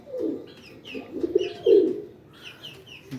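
Pigeons coo in a series of soft, low, rounded calls, close by and fairly loud, with higher chirps and tweets in the background and no talk.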